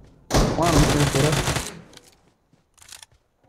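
Loud automatic gunfire in the BGMI battle royale mobile game, a long rapid burst of well over a second, then quieter scattered shots. A voice talks over the firing.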